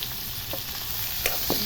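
Food frying and being stirred in a pan while an eel curry with medicinal herb leaves cooks. A steady, dense sizzle runs throughout, with a few soft scraping knocks from the stirring.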